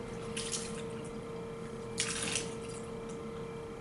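Water flows and trickles out of a container in a surface tension demonstration, faint splashy bursts of pouring over a steady background hum.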